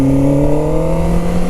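A Kawasaki superbike engine revs steadily upward toward about 4000 RPM in sports mode at full power, a continuous rising drone close to the microphone with no talk.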